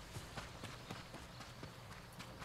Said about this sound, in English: Yeah, I can hear his footsteps.